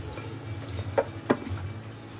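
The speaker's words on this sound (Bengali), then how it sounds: "আর কড়ায় পাবদা মাছ ভাজা চলছে।" Pabda fish sizzles softly in hot oil in a wok, a quiet steady frying hiss broken by a couple of sharp stirring clicks.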